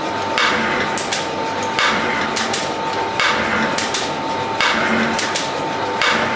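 A metal shaper's cutter takes repeated strokes across steel held lengthwise in a vise, stripping mill scale with a steady, loud scraping rhythm about every one and a half seconds, each pass followed by a clunking return.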